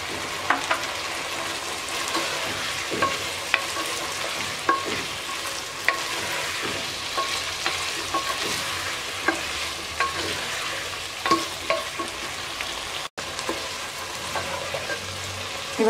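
Potatoes fry in a pan for a kabuli chana biryani under a steady sizzle, punctuated by repeated scraping stirs and light clinks of the spoon, close and without talk.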